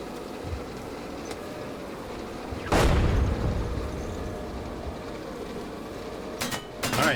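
Distant artillery battery firing in the tank combat game GHPC, a single heavy boom around three seconds in with a rumbling tail, followed near the end by sharper reports over a steady background din.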